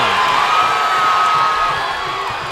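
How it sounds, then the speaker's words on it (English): A boxing arena crowd roars and cheers after a knockout, a loud sustained wall of shouting that tapers slightly toward the end. "The crowd is on their feet everywhere."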